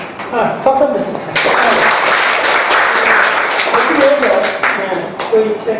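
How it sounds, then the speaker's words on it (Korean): An audience bursts into dense, sustained applause after a talk on Mongolia's history and nature. The clapping swells quickly, holds as a steady wash for several seconds, then thins out toward the end. "박수 한번 주세요."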